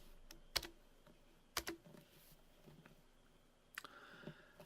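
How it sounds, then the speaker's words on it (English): A few quiet keystrokes on a computer keyboard, isolated clicks spread over a few seconds, close but faint. "So I'm going to type in yes."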